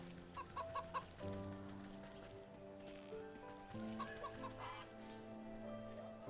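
Cartoonish geese in the video game Wytchwood give two short bursts of quick repeated honks over a steady, gentle musical background.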